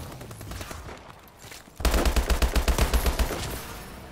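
Rapid gunfire from a first-person shooter game: after a quieter stretch, a loud burst of a dozen or so quick shots erupts and runs steadily for over a second before fading.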